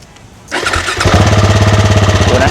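A Yamaha Exciter 150 (690R) motorcycle engine cranks and catches at close range, then settles into a loud, steady, throbbing idle.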